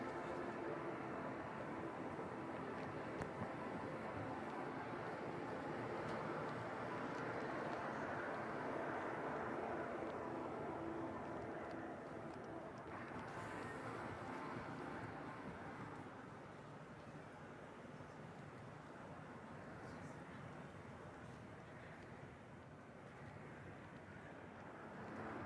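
Eurofighter Typhoon jet at the Farnborough air show, a steady, loud broadband jet roar sustained throughout, easing slightly toward the end, with wind buffeting on the microphone.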